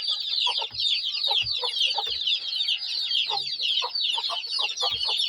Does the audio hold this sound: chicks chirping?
yes